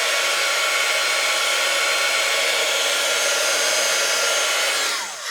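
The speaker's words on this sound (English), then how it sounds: "take my heat gun and I'm gonna straighten it right out" A heat gun blows a steady, loud, airy roar close by while straightening a bent artificial leaf, then winds down as it is switched off at the end.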